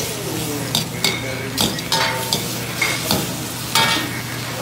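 Fish and shrimp sizzle on a hot griddle in a steady frying hiss, broken by several sharp utensil scrapes and clinks against the metal surface.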